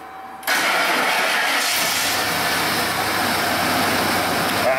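A Ford F-150 engine cranks and catches after half a second, then settles into a loud, rough idle with a single cylinder misfiring and its plug wire pulled.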